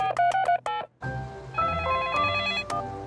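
Cartoon telephone being dialed to reach emergency services: a quick run of bright beeping keypad tones, a short pause, then a warbling electronic ringing tone with chiming accents.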